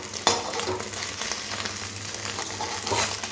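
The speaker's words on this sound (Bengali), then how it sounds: "এগুলো খুব ভালো করে ভাজা হয়ে গেছে" Chopped boiled egg pieces fry in oil in a pan, a soft steady sizzle with occasional stirring scrapes and clinks, no voices.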